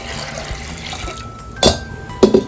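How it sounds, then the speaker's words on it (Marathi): Water pours into washed dal in a vessel in two short, close splashing bursts, separated by a quiet pause with faint background hum. "आता आपण यात पाणी टाकून"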